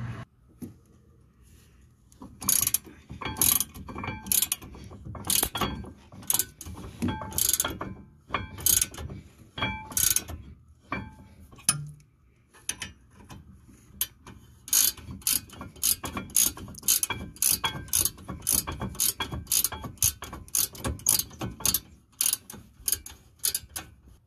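A ratchet tightens bolts on the rear brake bracket of a 2016 Ford Fusion, heard as close, rapid clicking in repeated strokes, steady runs of ticks broken by brief pauses, with no voice.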